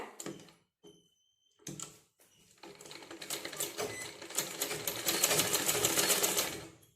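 A sewing machine stitches a quarter-inch sleeve seam, starting with a few short bursts and pauses before settling into a long, steady run that grows louder toward the end.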